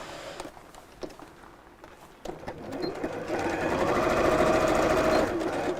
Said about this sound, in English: open out the corners so that the side seam sits over the base and just sew straight across